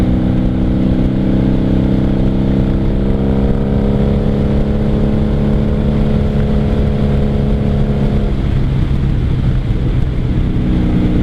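A motorcycle fitted with Jardine exhaust pipes drones loud and steady, its engine note holding then shifting lower near the end, with no voices.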